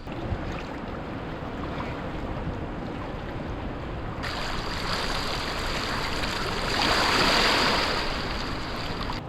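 River water flowing on a jungle island in the Don Det area of the 4000 Islands, a continuous broad rushing wash that swells louder partway through, with no voices.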